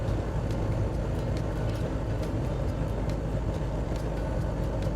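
Dodge Power Wagon truck cruising at about 60 mph near 1,600 RPM, with a steady loud drone of engine and road noise heard from inside the cab and no talk.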